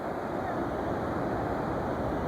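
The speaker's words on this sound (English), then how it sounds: "Look at the waves," Pacific Ocean surf along the California coast makes a steady, full broadband roar with no distinct breaks, mixed with wind buffeting the microphone.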